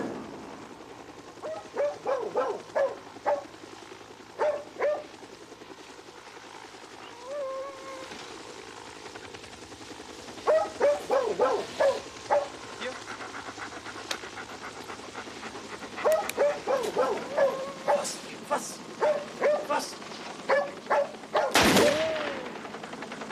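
A dog at a house garage gives repeated short barks and pants in bursts across the stretch, fairly close and loud over steady background noise, with a sharp burst near the end.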